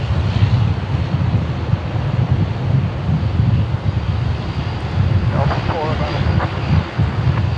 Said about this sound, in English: we've got a few taxiing out, so we've got quite a few departures coming up